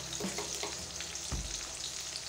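Tomato and onion sizzle and crackle steadily in an oil-filled pan, with a few stirring scrapes and one louder thump of food hitting the pan, close and without talk.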